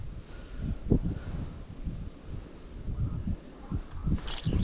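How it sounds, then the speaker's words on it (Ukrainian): Strong gusty wind outdoors beside a small river, buffeting the microphone in low rumbling surges that swell and ease unevenly, with a brief brighter rush near the end. "вітер, звісно, так мішає. Ще й такі пориви сильні є"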